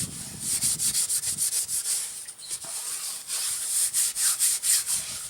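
Steady back-and-forth scrubbing inside a camp cooking pan coated with tallow and ground beef residue, a rhythmic, close rasping that continues without pause and with no talking.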